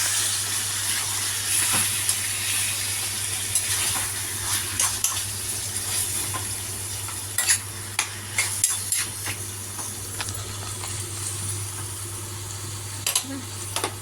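Chicken sizzles in a pan over steady kitchen hum while it is stirred, with sharp clacks and scrapes of the spoon scattered through a long, moderately quiet stretch.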